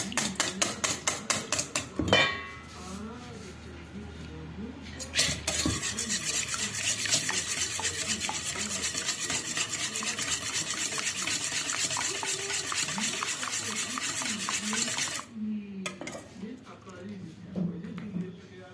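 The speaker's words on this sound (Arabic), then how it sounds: "نبتدي بقى نقلبهم كويس" Pasta frola tart dough ingredients, eggs among them, stirred steadily in a bowl, giving a continuous scraping, clinking mixing sound with brief sharp knocks near the start, while a person talks over it.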